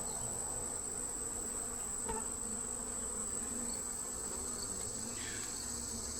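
Dense, continuous buzzing of many bees close by, steady and even, with an occasional faint higher whine passing through.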